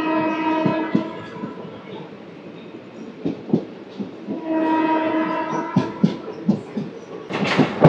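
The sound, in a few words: Vasco da Gama–Sainagar Shirdi train running alongside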